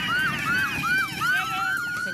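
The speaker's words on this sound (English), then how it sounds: "You can hear the sirens in the background as he appears to laugh them off," Police sirens wail in the background during a Bikes Up, Guns Down awareness ride, a repeating rising-and-falling tone that cycles about every half second, fairly faint and steady with no talk.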